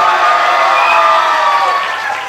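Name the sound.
audience clapping loudly and cheering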